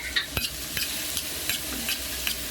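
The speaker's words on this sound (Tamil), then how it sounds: "இப்போ ரெண்டு பெரிய வெங்காயத்தை இந்த மாதிரி நம்ம நல்லா வதக்க போகிறோம்" Two large onions sautéing in oil with fennel seeds, a soft crackling sizzle punctuated by several sharp scrapes of a spoon stirring the pan, close and unaccompanied by talk.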